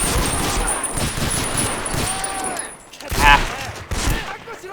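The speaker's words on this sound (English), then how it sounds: "we're fighting a lot of these machine guns" Machine gun fire in Medal of Honor Rising Sun, a World War II game set in the Burma campaign, rattling in dense rapid bursts with explosions, alongside a brief spoken exclamation.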